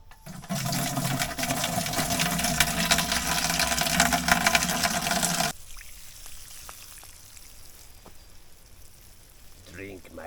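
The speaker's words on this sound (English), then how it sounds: "I'll put some of the good juice on all these and all the other seedlings" Fish juice fertilizer pours steadily onto vegetable seedlings in a garden bed, a loud continuous splashing stream that cuts off abruptly partway through, leaving quieter outdoor background with faint drips.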